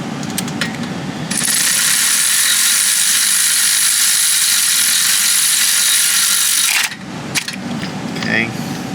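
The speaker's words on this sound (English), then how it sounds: "I use this electric ratchet. It makes everything faster." An electric ratchet runs steadily for several seconds while tightening bolts on 2014 Chevy Camaro headers, a loud close buzzing whir with brief clicks before and after it.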